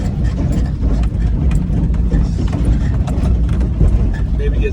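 A Daihatsu Hijet farm truck drives around a rural property, its small engine giving a steady mechanical drone and rattle close up with no voices.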